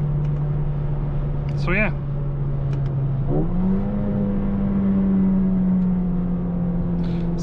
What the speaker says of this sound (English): sometimes it gives you more pops, sometimes less, but the 8-speed DCT is really crazy in this regard